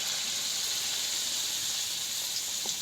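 Fritters frying in a lot of oil in a wok give off a steady, even hiss and sizzle that carries through the whole stretch with no voices over it.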